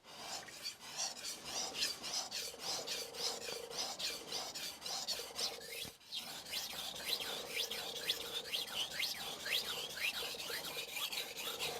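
A knife is sharpened on a Shapton Kuromaku whetstone with steady, rhythmic back-and-forth rasping strokes up close, pausing briefly midway before continuing, with faint birdsong in the background.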